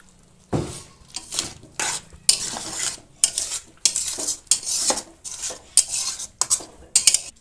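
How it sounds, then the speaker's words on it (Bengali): Small-fish curry with tomato paste being stirred in a pan, a utensil scraping and clinking against the metal in irregular close strokes over a faint sizzle. "এবার আমি ভালো করে নেড়ে নেব।"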